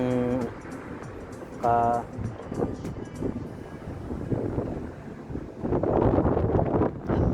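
Wind buffets the microphone in low, rumbling gusts beside a road in the UAE in winter, with passing traffic noise and brief tonal sounds early on.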